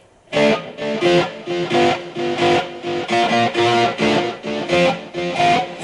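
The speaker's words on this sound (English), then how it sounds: "my delay settings are set at delay time at 450 milliseconds" A distorted electric guitar plays a steady, chugging 80s glam metal riff, each note trailing into repeating echoes from a 450-millisecond delay effect, loud and up front.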